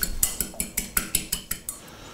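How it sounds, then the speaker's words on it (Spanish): A whisk or fork beats an egg in a bowl for marzipan, about ten quick, evenly spaced clinks against the bowl, close and clear, with no talking. "Hemos puesto el huevo dentro de un bol y lo batimos un poquitín."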